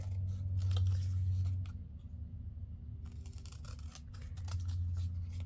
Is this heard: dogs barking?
no